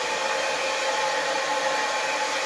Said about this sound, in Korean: 머리는 또 다른 방에서 말리시네요.